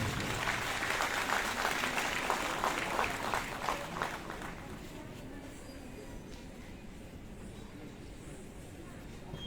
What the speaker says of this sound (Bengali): প্রত্যেককে আবারও করতালি দেওয়ার জন্য অনুরোধ করছি।